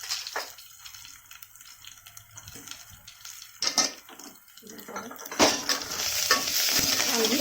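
Green chilies fry in oil for a buttermilk kadhi tempering, a soft, uneven sizzle with light stirring that grows fuller and louder toward the end.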